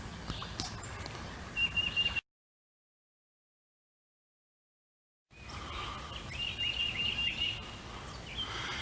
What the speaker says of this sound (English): that's the call of the tufted titmouse.